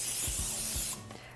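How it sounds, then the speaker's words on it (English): Nonstick cooking spray hisses onto a cake pan in one steady, close burst lasting about a second, then cuts off, leaving quiet kitchen room tone. "I am going to spray the pan with a nonstick cooking spray"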